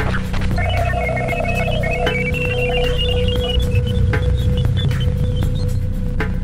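Radio emissions recorded from the planet Jupiter come through as warbling tones that rise and fall over a steady low hum and crackle, continuous and moderately loud, with no voices.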